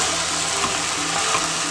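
Ghee sizzling around sweet dough in a non-stick pan, a loud, dense, continuous frying hiss heard close up and unbroken for under two seconds, with no voices.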